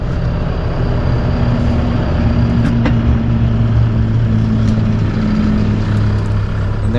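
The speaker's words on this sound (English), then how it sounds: "And there's the spreader truck." Steady loud rumble of a spreader truck engine driving on a farm in springtime, a constant low drone with faint intermittent clicks, and no voices.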